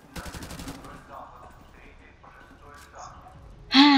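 Rapid bursts of automatic gunfire in Call of Duty 4 Remastered, a clattering volley at the start and a sharp loud shot at the end, with voices talking in between.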